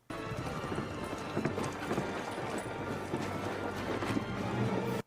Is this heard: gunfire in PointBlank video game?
no